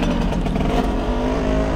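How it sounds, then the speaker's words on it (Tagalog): A loud motor vehicle engine roars close by, a thick, continuous rumble with a rising, revving tone that dominates the short stretch, consistent with a motorcycle going past. "Ang ingay ng motor na yan."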